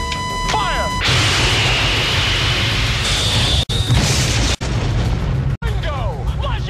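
Movie battle scene full of loud sustained gunfire, a dense roaring barrage with a few abrupt cutoffs and shot bursts, alarm-like tones at the start and voices shouting underneath.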